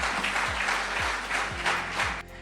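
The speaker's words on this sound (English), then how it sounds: "let me just pause it there as he gets a little applause for that" An audience claps for a speaker at a political event, a dense steady round of applause heard from within the crowd, easing off and cutting out near the end.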